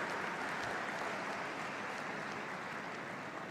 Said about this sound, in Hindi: एक बार जोरदार भारत के महामहिम राष्ट्रपति जी का आप सब ताली बजा करके अपने स्थान पर स्वागत